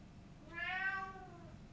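A cat meows once, a drawn-out harmonic cry lasting about a second, heard alone over a faint background hum in a quiet room.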